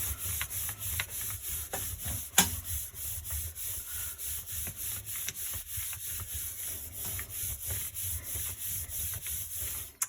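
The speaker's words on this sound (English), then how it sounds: "I'm going to position it down, press, flip, burnish" Paper laid over an inked block print is rubbed and burnished by hand in a soft, continuous scraping hiss, quiet and close, with one brief sharper tap partway through.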